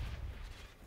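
A grenade explosion in the video game Halo 3, a single deep, booming low rumble that fades over under a second.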